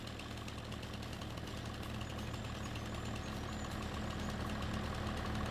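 A tractor engine idles steadily in a farming and logging video game set at Riverbend Springs, producing a constant loud low rumble with a faint knocking texture and no talking.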